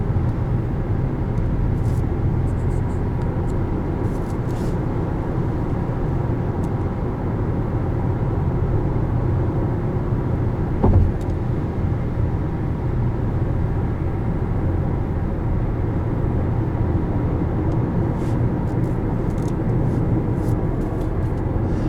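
Steady, loud cabin drone of a 2018 Hyundai Sonata SE on the move, a broad low engine and road rumble holding constant throughout with one brief knock midway, no voices.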